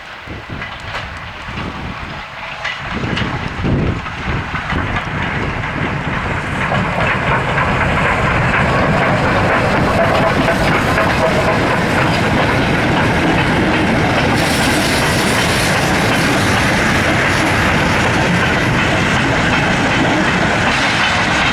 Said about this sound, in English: 48624 heads for Loughborough with the 12:49 p.m. mixed goods train from Rothley Brook